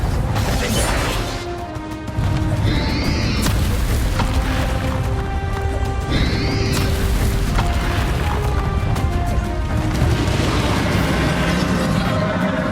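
A Confringo blasting curse detonates in the Hogwarts Legacy video game: a loud, sustained roar of booms and crashing debris fills the scene, with a brief dip before the blast swells again and rumbles on without pause.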